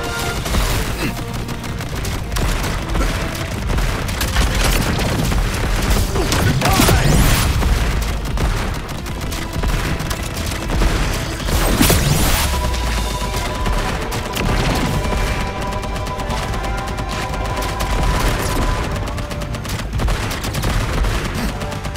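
Heavy bursts of gunfire and booming blasts from an overload weapon attack in Contra: Operation Galuga, loud and sustained with dense rapid shots and explosions over game music.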